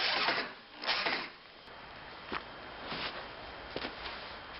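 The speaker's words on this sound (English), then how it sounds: "Now we're just going to fasten it with some deck screws." Power driver sinking deck screws into wooden ramp boards outdoors, with several whirring bursts that rise and fall over a steady background hiss and no talking.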